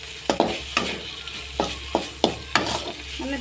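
Chhatu mushrooms frying in a pan with tomato and salt, a constant sizzle broken by about eight sharp scraping stir strokes at an uneven rhythm, close and fairly loud with no voices.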